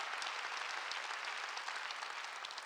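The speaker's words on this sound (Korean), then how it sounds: "박수여 그래야 된다는 겁니다." A church congregation applauds during a sermon, a steady, even wash of many hands clapping together, fairly soft and unbroken throughout.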